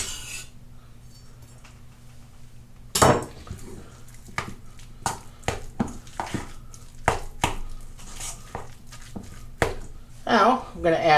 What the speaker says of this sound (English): I'll slice them once lengthwise and a whole bunch of times this way